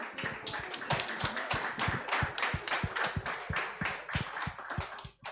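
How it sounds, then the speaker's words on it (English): Men in a room at a reproductive justice litigation gathering clap for the women present, a close, sparse, uneven run of claps from a small group, continuing steadily and then fading at the end. "I'd like all the men in the room to stand up and acknowledge the women in the room by clapping for them"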